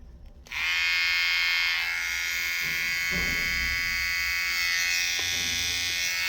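A Wahl corded hair trimmer, one of a batch being checked for faults, switches on and runs with a loud, steady buzz, its pitch wavering slightly, while a few faint clicks and handling noises sound close by.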